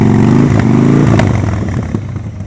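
A motorcycle engine putters and revs lightly during advanced slow-speed riding practice around cones, close and loud at first, then easing off as the rider crawls along.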